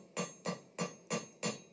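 Centre punch struck with a hammer to mark a hole in a forged steel hook, five sharp metallic taps at an even rhythm, close and clear with nothing else heard.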